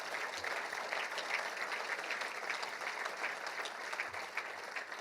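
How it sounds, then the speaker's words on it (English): Crowd at a university football national championship ring ceremony gives the coaches sustained, even applause, a steady wash of many hands clapping at moderate distance. "So please give these coaches a big round of applause."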